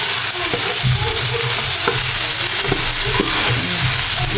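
Chayote, carrots, beans and cabbage sizzle in a pan while being stir-fried, a loud steady frying hiss broken by repeated clacks and scrapes of a utensil.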